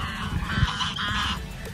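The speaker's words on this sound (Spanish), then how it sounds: "miren de este lado de la presa cuántos gansos, porque no son patos, son gansos" Free-roaming geese beside a dam give a chorus of nasal honks, repeated and overlapping at moderate distance over steady outdoor background noise, with no talking.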